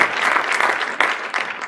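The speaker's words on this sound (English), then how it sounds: "Let's give a round of applause to Tom McClellan" An audience at an addiction-recovery caucus breaks into a brief, full round of applause, dense many-handed clapping at an even level with no voices over it.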